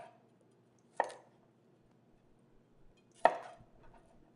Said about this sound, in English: So you can keep cutting it in half or quarter until it's sort of bite size